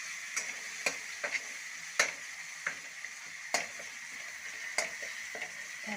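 A spoon scrapes and taps in a pan while spice paste for vada pav fries, with sharp clinks every half-second or so over a steady soft sizzle, close and moderately quiet.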